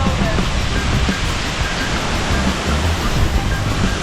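Waterfall at a camping spot pours in a steady, loud broadband roar with a deep low rumble, continuous and close throughout, like mist-filled falling water crashing onto rocks nearby.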